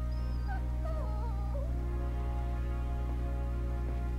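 A dog in the Final Fantasy XVI video game whimpers, a few high wavering whines in the first two seconds over a steady loud game music and ambient drone.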